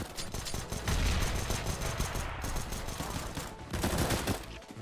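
Rapid bursts of CZ-75 pistol fire in the game CS:GO, loud close shots in quick strings with brief pauses between bursts.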